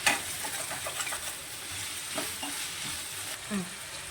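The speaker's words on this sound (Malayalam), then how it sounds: "ചതച്ച് വെച്ച് ചെറിയ ഉള്ളിയും കൂടെ ചേർത്ത് നന്നായി ഒന്ന് റോസ്റ്റ് ചെയ്തെടുക്കാം" Crushed shallots frying with salt in a pan for a chicken curry, giving a steady low sizzle under soft stirring scrapes and occasional clinks of the spoon, with no talk.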